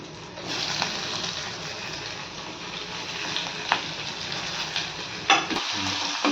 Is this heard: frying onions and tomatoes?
yes